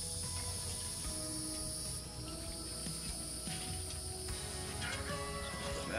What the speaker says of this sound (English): There's lots of bees around here, so I'm trying not to get stung in the face.